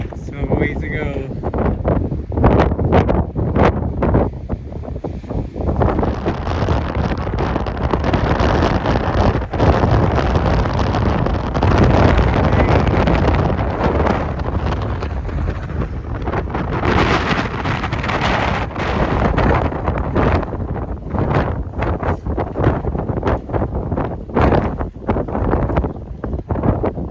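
Strong wind roars on a mountain, buffeting the microphone in a loud, continuous rush with surging gusts that barely ease for almost half a minute.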